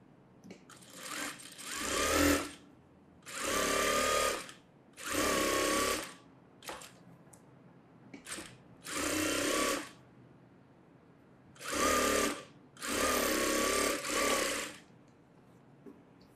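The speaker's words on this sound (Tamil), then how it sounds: "இன்னொரு லைனிங் வச்சு இந்த பக்கம் தைக்கிறேன்." A sewing machine stitching the lining of a fancy blouse runs in several bursts of one to two seconds, separated by short quiet pauses, close and clear with no talk.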